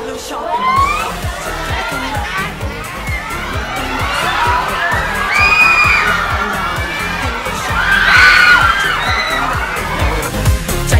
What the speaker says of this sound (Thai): เราไม่เคยคิดว่าคนจะกรี๊ดให้เราแบบนี้เลยอ่ะ